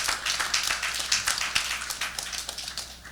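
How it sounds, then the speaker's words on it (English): Audience applause after a vote of thanks at the closing of a mandir's annual seven-night event, a modest crowd clapping in scattered, uneven bursts that rise and fall over a few seconds. "I think he deserves a special round of applause"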